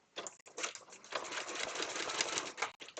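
A sewing machine runs in short mechanical bursts for only a few stitches, close and steady with brief pauses between runs, no voices over it.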